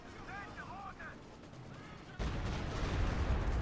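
Artillery barrage in Company of Heroes 2: a sudden loud burst of broadband rumble hits about two seconds in and holds to the end, after a quieter stretch of game sounds.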